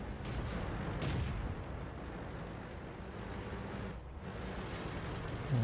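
Artillery fire in the World of Tanks video game: a loud booming burst near the start, then a steady rumbling battle ambience with another muffled hit later, no talking.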